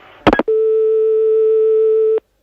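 A telephone busy signal sounds as one steady, loud tone held for nearly two seconds, right after a brief clatter of a handset being picked up.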